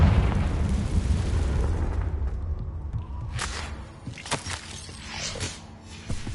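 A Confringo spell in a Hogwarts video game sets off a loud rumbling explosion, followed by scattered crackling bursts and debris pops that fade.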